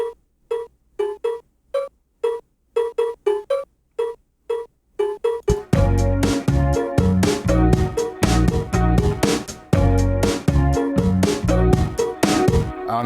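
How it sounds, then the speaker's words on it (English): A vibraphone-like sampler patch built from Reason drum machine cowbells plays as a series of spaced, bell-like tones. A fuller, dense pattern with steady low pulses then joins and continues to the end without any talking. "I think this is where we've got to the vibraphone"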